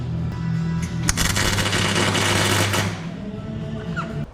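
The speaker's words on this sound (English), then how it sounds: "Right, welding's finished." A MIG welder crackles and buzzes steadily for about two seconds while working on a Classic Mini. A low mechanical hum runs underneath, and quieter workshop noise follows once the arc stops.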